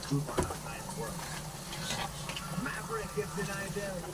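Crab sauce cooking in a pan, a soft continuous sizzle with light stirring scrapes and a small knock near the start, quiet and under faint background speech.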